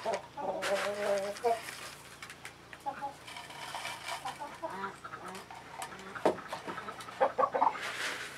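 Hens cluck and murmur nearby in short, irregular bursts, with a person talking softly among them.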